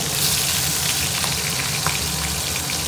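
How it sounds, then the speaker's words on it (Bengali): Potatoes and mixed vegetables sizzle and bubble loudly in a pan after cumin seeds have been tempered in oil, a dense, constant crackle heard close up with no talking. "সব সবজি এখন ফুটছে,"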